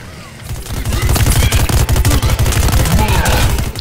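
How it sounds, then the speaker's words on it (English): Rapid sustained gunfire from a Plants vs Zombies Garden Warfare match, a loud continuous stream of shots that starts after a brief lull and keeps pounding steadily to the end. "I'm shooting"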